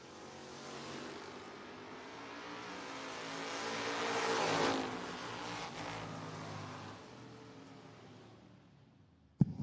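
Two drag racers, a Chevrolet Nova and a Camaro, launch side by side, engines roaring loud and broadband as they pull away, swelling to a peak then fading into the distance.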